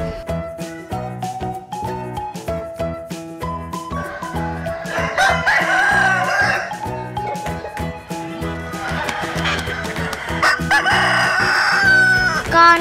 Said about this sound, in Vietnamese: Con gà.